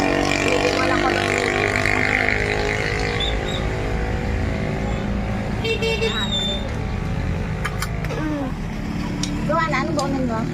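Busy, noisy roadside traffic with engines rumbling continuously and car horns tooting now and then, while voices murmur in the background.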